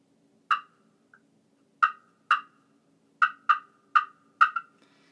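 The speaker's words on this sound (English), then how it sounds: "The clucks on it kind of spike and get a touch loud." Eight sharp, bright clucks from a slate turkey call sound one after another in uneven bursts against near silence.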